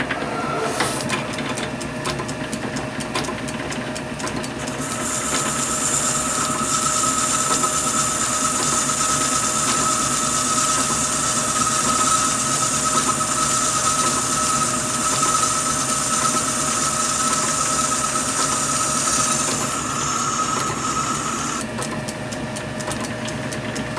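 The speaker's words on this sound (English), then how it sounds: "we're only hand feeding here because it's the way this lathe rolls" A metal lathe, hand-fed, cutting an engine cylinder, giving a steady whirring mechanical drone with a high-pitched cutting whine that starts a few seconds in and stops near the end, close and continuous without talk.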